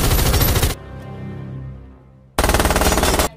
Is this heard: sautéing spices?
no